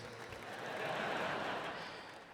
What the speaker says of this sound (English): Oh, thank you, smattering of applause.